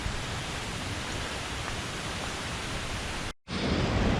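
After heavy rain the day before, water runs down wooden trail steps on a gorge trail, giving a steady, broad rushing wash close by with no voices and a brief dropout near the end.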